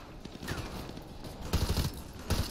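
Gunfire in Call of Duty: Modern Warfare 2 Remastered, with bursts of automatic weapon fire crackling through a steady battle din and two louder volleys near the end.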